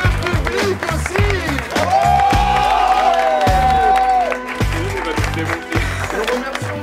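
Crowd applause and cheers swell under loud music at a televised dance show final, with a long sustained tone in the middle and scattered clapping throughout.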